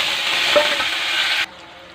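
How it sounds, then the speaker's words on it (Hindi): Green chillies frying and stirred in a pan of tempered spices for a potato and chickpea curry, a steady close hiss of sizzling oil with a faint scrape of stirring, cutting off sharply near the end. "अब मैं इमा डाल हूँ हरा मिर्ची"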